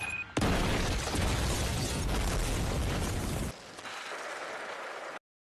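A sudden loud blast erupts into a sustained roaring rumble that drops in intensity partway through, then cuts off abruptly.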